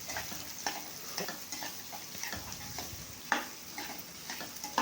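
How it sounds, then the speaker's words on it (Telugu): Boiled beetroot pieces frying in a pan, giving a steady sizzle broken by frequent scraping stirs and a few sharper clinks, close and fairly quiet, with no voices. "మనం ఉడికించి పెట్టుకున్న బీట్రూట్ ముక్కల్ని వేసుకోవాలి వేసుకొని ఒక రెండు నిమిషాలు ఫ్రై చేసుకోవాలి"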